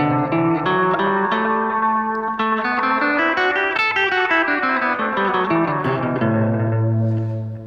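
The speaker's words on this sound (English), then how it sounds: "Here's the sound of the Dorian scale." Electric guitar plays a flowing A Dorian scale line through effects with reverb, echo and chorus, sustained notes ringing steadily and loud throughout, ending on a held low note.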